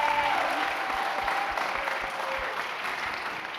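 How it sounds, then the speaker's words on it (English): Audience applause fills a talk-show style event, steady broadband clapping from a crowd lasting several seconds with no talk over it, tapering slightly toward the end. "Another round of applause for Anea and Sinedra."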